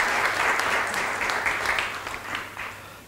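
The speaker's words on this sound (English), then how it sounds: "he needs an applause" A crowd at an event on the making of a metropolis applauds steadily, a dense patter of many hands clapping for about three seconds, tapering slightly near the end.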